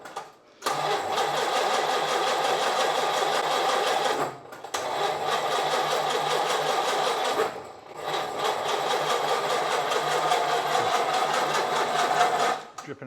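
A Rolls-Royce Phantom III engine with flooded carburettors and over-advanced timing churns in a fast, steady mechanical clatter, in three long bursts split by short pauses.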